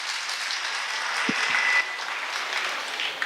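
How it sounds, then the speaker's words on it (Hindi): An audience at a talk applauds in a steady wash of many hands clapping, fairly distant and even, with a couple of faint low knocks partway through. "एक बार जोरदार ताली दोनों के लिए बजा लीजिए।"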